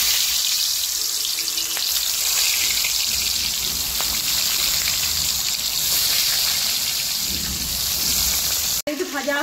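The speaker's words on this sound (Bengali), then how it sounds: "তেল গরম হয়ে গেছে, এবারে আমি হলুদ লবণ মাখিয়ে রাখা মাছগুলো দিয়ে দিচ্ছি।" Fish coated in turmeric and salt frying in hot oil in a karahi, a loud, dense, continuous sizzle filling the whole stretch, close up, with a brief clatter near the end and no voices.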